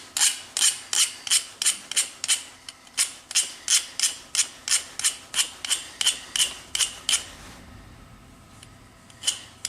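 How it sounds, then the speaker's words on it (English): A Leatherman Wave file rasps across metal in quick, regular back-and-forth strokes, about twenty close, loud scrapes in a steady rhythm before a short pause and a couple more strokes. "All I'm kind of doing is just filing this stuff down."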